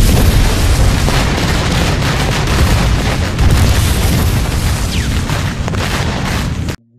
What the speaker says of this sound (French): soi-disant parce que c'est pas une explosion, ça c'est des feux d'artifice